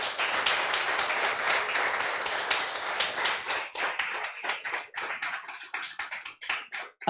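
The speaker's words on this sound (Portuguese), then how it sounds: "Você pode glorificar o Senhor com suas palmas" A church congregation claps together in praise, starting as a dense wash and breaking into distinct rhythmic claps that thin out near the end, with no talk over it.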